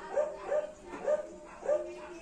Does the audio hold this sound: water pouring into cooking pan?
no